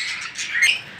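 A caged pair of lutino cockatiels gives a short, shrill call, one bright burst of chirping lasting about a second at moderate distance.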